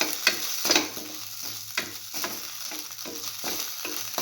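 Mung beans and vermicelli sauteing in a pan, a close sizzle with regular stirring scrapes and taps.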